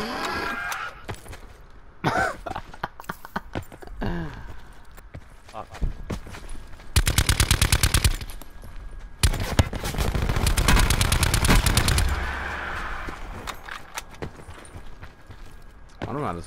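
Gunfire from an Auger sniper rifle in the Black Ops 4 Blackout battle royale game, a run of sharp rapid shots and bursts mixed with in-game noise, with players talking over it.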